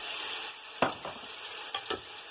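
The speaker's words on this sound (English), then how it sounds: "To this, I'm going to add chopped onions, 5 of them." Five chopped onions hiss and crackle steadily in a hot pan for a biryani, with a few sharp scrapes and knocks from stirring standing out above the sizzle.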